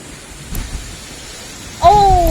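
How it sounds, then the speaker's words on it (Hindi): Rain falls steadily on a rooftop with a couple of soft low rumbles of thunder, then a louder swell of rain near the end, where a faint voice-like tone briefly rises over the downpour. "बारिश पड़ने लगे"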